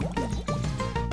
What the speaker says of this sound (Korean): 익혀서 먹기 익혀서 먹기 끓여서 먹기 끓여서 먹기 보글보글보글으르르